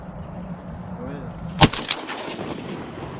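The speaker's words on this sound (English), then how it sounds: "All right, Gary, I'm finna shoot this thing." A single sharp shotgun blast rings out over low background chatter while duck hunting on Louisiana public land, followed by a brief echo and a smaller report.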